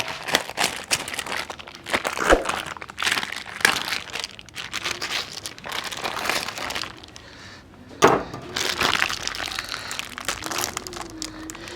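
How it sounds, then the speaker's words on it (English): A plastic bag holding a 14-pound raw brisket is cut open, giving a run of crinkling and rustling plastic with a few sharp snaps and tearing sounds, close by and without talk. "First, we're gonna cut this bag"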